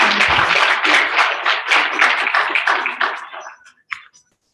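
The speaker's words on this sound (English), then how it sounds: "Please a round of applause for her." Audience at an International Migrant Day event applauding a guest, loud dense clapping that thins out and fades to a few last claps.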